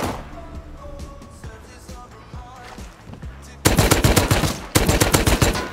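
Gunfire in the survival game Rust: scattered distant shots first, then two loud, close bursts of rapid automatic fire, each lasting about a second, under faint background talk.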